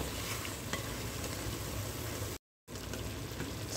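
Meat and potatoes simmer in a covered pot, giving a steady soft bubbling and sizzling hiss throughout, broken by a very short gap of silence.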